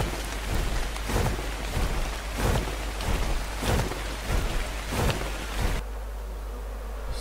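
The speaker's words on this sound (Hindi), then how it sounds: "बारिश शुरू हो गई। एक तो ये गेम में बारिश क्यों" Heavy rain in the video game ARK, a steady hiss of downpour pounding surfaces with repeated rumbling bursts like thunder, continuing without voices until the rain noise drops away near the end.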